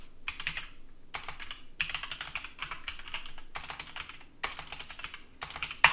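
Typing on a computer keyboard in bursts of rapid key clicks separated by short pauses, close and fairly quiet with no voices.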